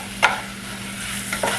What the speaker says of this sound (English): So we're going to go ahead and just mix this together.